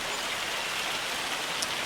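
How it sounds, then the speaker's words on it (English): A heavy rain downpour in the Farming Simulator 25 video game makes a dense, unbroken wash of hissing rainfall, steady and close throughout, with no voices. "That is what you call a downpour."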